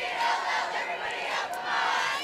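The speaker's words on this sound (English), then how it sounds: "Boy, the cheering section is in good voice tonight" A high school football cheering section at Lakeland roars in a sustained, loud wash of massed voices, steady for a couple of seconds with slight swells.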